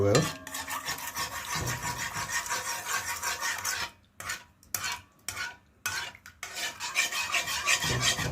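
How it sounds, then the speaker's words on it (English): A spoon rasps and scrapes through thick cornmeal batter seasoned with sugar, for fried chicken, in quick close strokes that stop in short pauses before resuming. "So I'm going to stir well."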